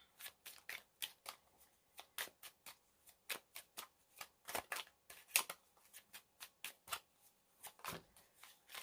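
Tarot cards are shuffled in a steady run of crisp, rapid riffles and flicks, each burst short and close, repeating almost without pause with no talking.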